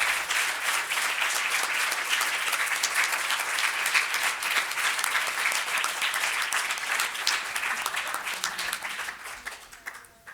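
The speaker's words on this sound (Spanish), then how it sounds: "Desde aquí, mi gran aplauso para todos ellos" A Madrid audience at an event with disability activist Robert Martin gives sustained applause that stays even and dense before tapering off near the end.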